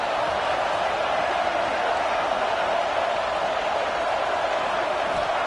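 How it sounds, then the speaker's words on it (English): A football stadium crowd roars during a third-down play in an Auburn versus FSU game, a dense, steady wall of cheering and noise that fills the whole clip, with faint commentary beneath it. "Decibels rising as the crowd gets behind this defense on third down."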